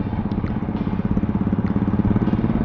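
A motorcycle engine runs close by, its exhaust silencer giving a loud, rapid, even thumping pulse, steady throughout without speech.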